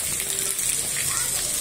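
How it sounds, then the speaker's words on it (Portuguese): Steady hiss of late-afternoon rain pouring down in Jabitacá, Pernambuco, Brazil, broad and continuous like a heavy shower close by. "Olha a chuva."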